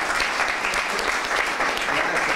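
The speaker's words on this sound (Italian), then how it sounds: "se fate un applauso lo gradirei" People at the press conference for the film Stessi Battiti break into applause. Many hands clap in a continuous, even roar, moderately distant and without pause.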